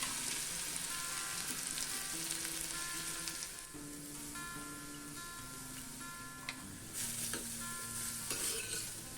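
Garlic and onions sizzle steadily in a pan for a prawn masala, with a spoon stirring and occasional light ticks of utensils against the pan, close and continuous with no voices.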